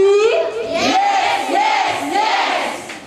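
A group of women at a village PKK and Srikandi community gathering in Bulakamba, Brebes, chant a loud yell cheer together, voices rising and falling in a sustained, rhythmic shout for about three seconds.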